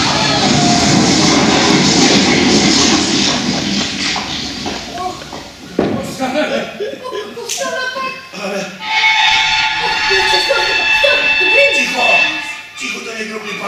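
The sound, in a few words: steam locomotive running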